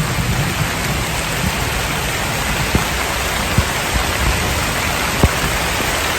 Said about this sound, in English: listen for anything other than raindrops and thunder